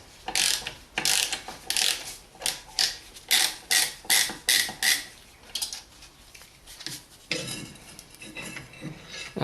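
A ratchet works a T50 bolt loose on the rear brake of a 2007 Mini One, giving a rhythmic series of about a dozen sharp clicking strokes close up, followed by looser metallic rattling.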